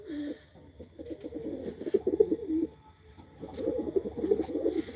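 Pigeons coo in their lime-washed nest boxes, two bursts of soft, rolling calls with a short lull between, close by and fairly loud.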